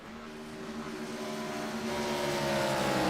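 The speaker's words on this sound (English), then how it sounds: "listening to these drivers just coast through the corners trying to save as much fuel as humanly possible" A next-gen NASCAR Cup car with over 800 horsepower runs on a Chicago street course, its engine a steady mid-distance drone that swells slightly louder toward the end, with no voices.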